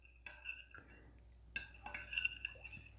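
A spoon stirs a tablespoon of salt into uncooked pickling liquid for sweet-and-sour pickled vegetables. Light scraping swirls are broken by several soft clinks of metal against the container, close and fairly quiet.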